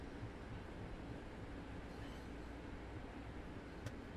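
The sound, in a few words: train crossing the flyover in Train Sim World 4 video game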